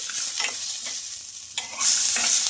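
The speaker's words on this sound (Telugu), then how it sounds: "టమాటో అలాగే పచ్చిమిర్చి బాగా మగ్గే వరకు అయితే ఫ్రై చేసుకోవాలి" Tomatoes and green chillies fry in oil with a loud, continuous hiss and sizzle, close up, swelling brighter near the end as they are stirred, with no talking.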